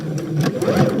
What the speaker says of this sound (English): I'm going to sew down using the reverse stitch till I get to this mark here